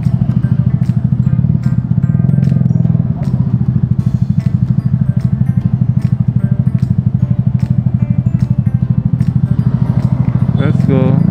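Motorcycles crowd a busy street near Glodok, their engines throbbing steadily and close throughout while a person talks over the traffic noise.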